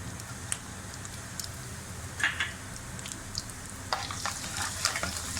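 Finely chopped ginger and garlic frying in oil, a soft steady sizzle with occasional crackles and light scraping strokes, moderately close and fairly quiet, no voices.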